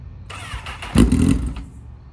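A hotwired motorcycle engine cranks and sputters, catching briefly in a loud rough burst that nearly starts before dying away, heard close.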